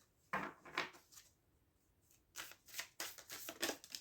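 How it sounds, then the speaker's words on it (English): Bursts of crisp riffling as tarot cards are shuffled, two quick flurries followed by a longer run of rapid papery slaps, close and fairly quiet. "Shuffle another card everywhere."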